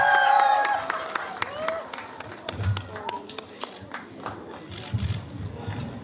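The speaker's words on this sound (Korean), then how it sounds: "박수 한번 부탁드립니다." Applause from a cinema audience at a film stage greeting on a rainy day, scattered claps building and fading under an announcer's voice and light crowd murmur.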